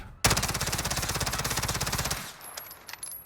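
Sustained automatic bursts from an M4A1 rifle in Call of Duty Warzone, a fast steady rattle of rapid shots for about two seconds, loud and close, then stopping into quieter game ambience.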